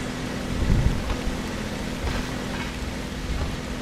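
Steady rain patters outside a moving train on a trip to a small town, a dense, even hiss throughout with a low rumble from the carriage beneath.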